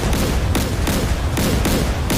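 Naval guns of the Russian cruiser Moskva fire in the DCS World combat game as a rapid series of loud booming blasts roughly every third of a second, dense and continuous with no talk.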